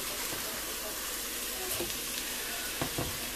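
Onion and spices sizzling in a pan, a steady close frying hiss throughout with a few faint clinks near the end.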